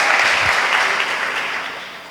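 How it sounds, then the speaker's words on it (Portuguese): A church congregation claps steadily in a dense, even patter that slowly fades over about two seconds, with no voices over it. "Vamos aplaudir o irmão que ficou junto conosco para escutar a palavra de Deus."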